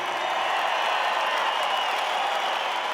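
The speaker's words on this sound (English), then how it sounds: "give us one last massive round of applause for our very own Australian" A stadium crowd in Melbourne roars with sustained, dense applause and cheering for Australian rider Chad Reed, a steady, loud wash of clapping with no break across the whole stretch.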